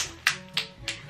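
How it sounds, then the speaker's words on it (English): Three soft, separate claps from a small child spaced about a third of a second apart, close to the listener and quiet against a faint background. "Look, she's clapping."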